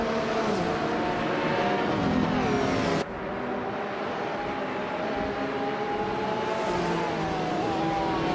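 Race cars in a racing video game, among them a Porsche 993-style LM classic supercar, launch off the start line with loud, sustained engine roars that rise in pitch, overlapping and shifting gear partway through.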